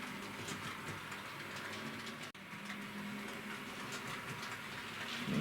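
A Bachmann Class 40 model locomotive, 30-090 D395, runs smoothly with a faint, steady whirring hum and light rail clatter, quiet and continuous throughout.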